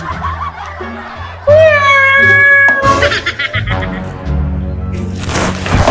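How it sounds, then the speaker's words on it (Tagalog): A big cat lets out a long, loud, wavering meow that rises and falls, followed by scuffling, voice-like sounds and what seems like laughter in a noisy indoor scene. "Nagdakkel nga pusa!"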